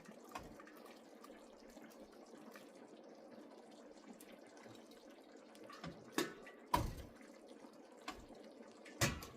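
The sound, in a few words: rinsing cooked pasta under running water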